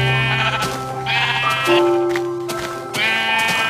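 Sheep in the video game Minecraft bleat several times in clear, close, wavering calls, one after another with short gaps and no talk.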